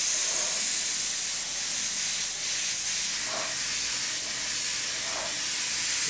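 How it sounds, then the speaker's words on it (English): Double-action airbrush spraying paint at about 30 psi for a flames and stripes design, a steady close hiss running through the whole stretch with slight swells, no voices. "Double action airbrush, about 30 pounds of pressure."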